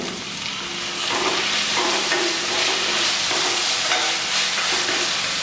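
Tomatoes are being sautéed in a pan with coriander and mint for Ambur mutton biryani. A steady close sizzle and frying hiss plays alone, with soft stirring scrapes.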